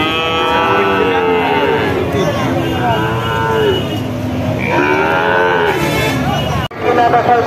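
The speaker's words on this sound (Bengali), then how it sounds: "শার্শা 7 মাইল গরুর হাটে লাল বকনা বাছুর গুলো।" Red heifer calves, one of them an Australian breed, low loudly and repeatedly at close range at the Sharsha 7 Mile cattle market in Bangladesh, with overlapping calls and a steady murmur of market crowd noise beneath.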